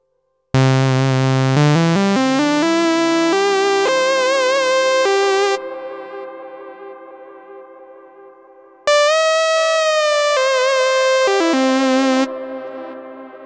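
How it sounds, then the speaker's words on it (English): A run of rising synthetic notes passes through a 555 tape echo delay and a spring reverb split across the channels. Loud sustained tones stop abruptly into long fading tails, then a second burst of notes rings out and decays. "we come back with the 555 delay, which is a tape echo. And then we come back with the spring reverb."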